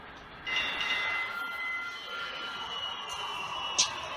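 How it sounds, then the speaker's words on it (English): A train moving along the rails at a station: a steady rolling rumble with thin, sustained wheel squeals high above it and a short metallic screech near the end, with no voices. "How about the train station?"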